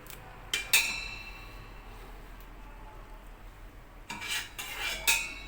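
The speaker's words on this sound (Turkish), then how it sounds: "Önce yağ erisin. Mantarları kavuracağım." Mushrooms being sautéed in melted oil in a pot for a barley vermicelli mushroom soup: a couple of metal utensil clinks and scrapes against the pot, then a quieter pause before more stirring clatter.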